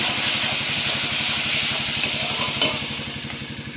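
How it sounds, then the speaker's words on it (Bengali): Coriander and cumin powder masala fries and is stirred in hot oil in a pan for a Bengali crab curry, giving a loud, continuous sizzle with rhythmic scraping strokes of the spoon close up. "আর অল্প একটু জিরে গুঁড়ো দিয়ে এবার আমি মশলাটাকে ভালোভাবে কষিয়ে নেবো"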